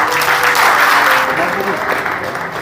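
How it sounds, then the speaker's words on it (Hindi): Audience applause at a pigeon flying prize distribution ceremony in Patna, Bihar: dense, steady clapping that fills the whole stretch, with voices mixed in, easing slightly toward the end. "मेंबर है तो एक बार जोरदार तालियों से सम्मान कीजिए।"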